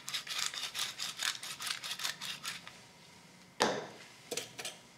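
Eggs beaten briskly with a whisk in a bowl while cooking with salt and pepper, a fast run of rhythmic scraping strokes that stops midway, followed by a few sharp clinks and taps.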